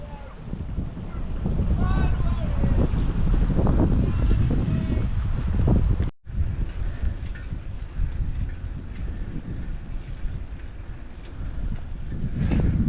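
Cold coastal wind outdoors at an East Coast campsite, heavy low rumbling gusts buffeting the microphone, with a voice talking underneath throughout.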